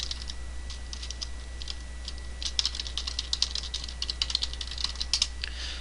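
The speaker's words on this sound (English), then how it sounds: "if I type in my current password" Fingers tapping out a password on a computer keyboard, a quick, steady run of light clicks over a constant low hum, no voices.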